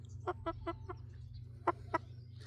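A chicken clucks softly nearby, a burst of four quick clucks followed by two more after a short pause, over a low background hum.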